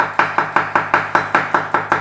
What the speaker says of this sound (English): if you can just get in the chopping mode, start chopping up